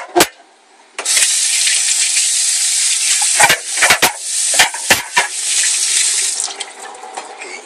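Water runs steadily from a kitchen faucet into a sink while squid is washed for paella, a loud continuous hiss broken by brief gaps and splashy interruptions as hands move under the stream.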